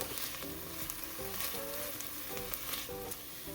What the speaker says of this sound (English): you just want to cook your garlic until it becomes nice and aromatic